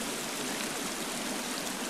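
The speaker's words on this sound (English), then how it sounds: "There, I hear a waterfall." A waterfall in the survival video game The Forest gives off a steady, dense rushing hiss, constant and fairly loud, with no voices over it.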